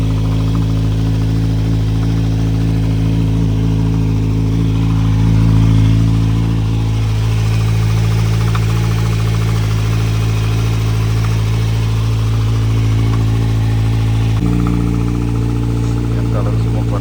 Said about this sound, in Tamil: இன்ஜின் கொஞ்சம் வார்ம் ஆகணும்,